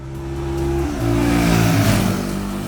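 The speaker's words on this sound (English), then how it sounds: "Listen to the intake howl." A Royal Enfield Guerrilla 450 motorcycle engine revs hard, its intake howling and rising in pitch as it accelerates, loud and close.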